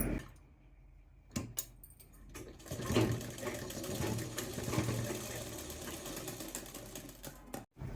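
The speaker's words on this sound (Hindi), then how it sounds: "अभी हम इसको यहाँ से और इसको यहाँ पर इस तरह से एक एक सिलाई लगा लेते हैं, दोनों तरफ से इसको अटैच करते हुए।" A sewing machine runs a stitch line attaching a belt to a churidar, a close, quiet whirring rattle in bursts after a few clicks and handling noises, with a brief stop near the end and no talking.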